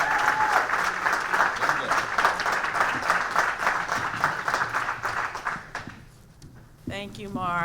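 A town hall crowd in Selma gives a sustained round of applause for a speaker about to open on voting rights, dense clapping filling the room before it fades and a voice begins talking.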